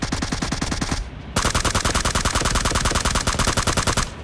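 Automatic gunfire in the video game PUBG: rapid, loud, close bursts of evenly spaced shots, with a brief break of about a third of a second before a longer sustained burst.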